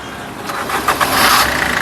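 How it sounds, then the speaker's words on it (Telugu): A car engine cranks briefly and catches, then settles into a steady running hum, close by and fairly loud. "సింగిల్ సెల్ఫ్లో కార్ స్టార్ట్ అవుతుంది ఎటువంటి స్టార్టింగ్ ట్రబుల్ అయితే లేదు"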